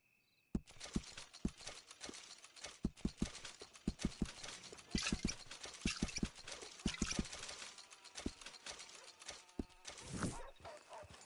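Steady video game horse hooves clip-clopping at a walking pace, close and clear, with a brief whinny-like texture and faint background ambience near the end.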